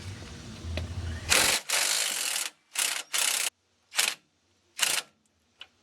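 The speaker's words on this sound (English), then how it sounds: "Okay, we're going to start with this sway bar end link. We're going to take this nut off." A ratchet wrench backs off the 21 mm nut on a sway bar end link of a 2016 Dodge Challenger Hellcat, giving several close, sharp clicking bursts separated by short pauses.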